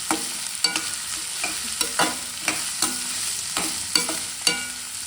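Ingredients for a dhaba style chicken gravy fry in a pan, a spatula striking and scraping roughly every half second over a continuous close sizzle, no voices.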